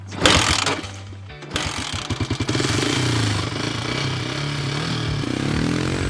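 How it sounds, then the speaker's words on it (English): A motorcycle started with a kickstart: a sharp mechanical clunk and a sputtering catch, then the engine fires into a rapid, loud, steady idle with close chugging. "Good old kickstart."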